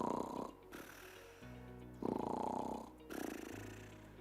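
A person imitates snoring with rough, rattling inhaled and exhaled snores, alternating in slow breaths across the clip, close and fairly loud with no other sound.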